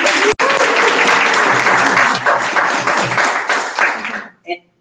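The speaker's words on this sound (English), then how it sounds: "Round of applause, everybody." A crowd breaks into loud, steady applause that holds for about four seconds, then fades out with a few last claps.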